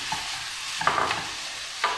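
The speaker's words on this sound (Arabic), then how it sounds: "دابا منين طاب ليا العدن غادي نزيدو عليه الكفته." Ground kefta meat is stirred into cooked lentils in a pan, with a steady hiss broken by a few soft scrapes and clinks of a spoon. No voices are heard.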